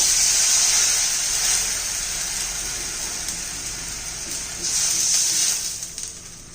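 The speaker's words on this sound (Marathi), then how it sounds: "तर त्याला दोन वाटी पाणी घालणार आहोत आपण" Two bowls of water poured into a pan while making Maharashtrian patvadi with besan, a steady bright splashing hiss that swells, eases slightly, then surges again before tapering off, close and without talk.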